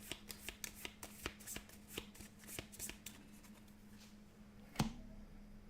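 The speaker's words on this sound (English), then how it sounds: "This gets shuffled back in the deck." A deck of game cards is shuffled during a solo tabletop session of Marvel United, giving a rapid run of crisp riffling flicks with a sharper snap near the end, close and fairly quiet, without talk.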